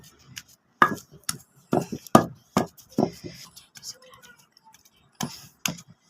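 Boiled potatoes being mashed finely by hand, giving a series of soft knocking and squashing thuds in irregular bursts, close by and moderately loud, with quiet pauses between strokes.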